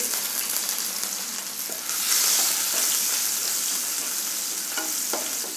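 Garlic, chilli, cumin and asafoetida sizzle steadily in hot oil in a pan, a close, dense frying hiss that swells louder partway through as the spices are stirred.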